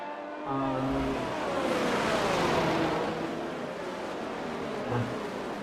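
An Alfa Romeo race car in a T2 prototype race in Spain drones past with a loud, continuous engine roar, its pitch sweeping as it goes by, with no talk over it.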